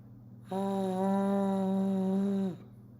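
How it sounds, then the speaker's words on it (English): A steady buzzing tone from a French horn mouthpiece played on its own sounds for about two seconds, close and sustained at a low pitch, then stops cleanly. "it's more of breathing through it and kind of vibrating the mouthpiece."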